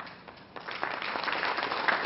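Audience applause for a panel introduction at a business discussion event, clapping that starts thin and builds to a fuller, steady round near the room.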